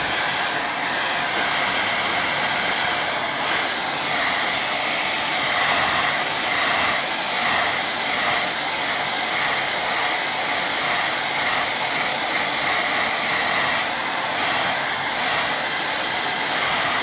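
A hair dryer blows steadily on a watercolour landscape painting of trees and fields, a loud continuous whooshing hum held close and unbroken throughout, with no voices.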